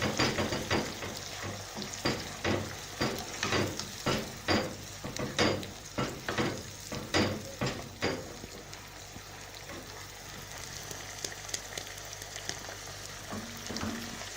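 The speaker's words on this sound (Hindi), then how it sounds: "इसी टाइम हम इसमें गोल्डन क्रश्ड प्याज भी शामिल कर देंगे और इसे अच्छी तरह मिक्स कर लेंगे।" Golden crushed onions are stirred into chicken masala frying in a pan, with a run of rhythmic scraping stir strokes over a continuous close sizzle; the strokes then stop and the frying hiss carries on alone.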